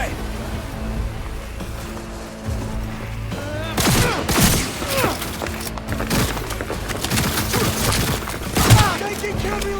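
Rapid gunfire bursts and impacts crack through a Cyberpunk 2077 firefight, loud and dense, with repeated volleys over a steady game background.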